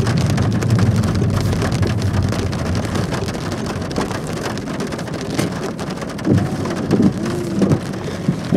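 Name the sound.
thunderstorm with heavy rain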